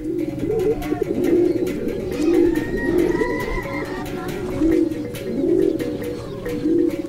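Racing pigeons coo repeatedly in low, throaty rolling calls, several birds overlapping close by against a steady background hum, in a fancier's loft in Zambales, Philippines.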